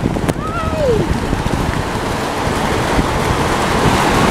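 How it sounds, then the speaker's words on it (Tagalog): Rain falls in a steady, dense wash outside a room at home, close and fairly loud, with a brief squeak early on and no clear voices over it. "it's raining"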